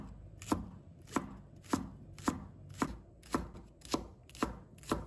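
A knife slices a Chinese green onion on a cutting board in nine steady, evenly spaced chops. The soft, close taps come with no voices.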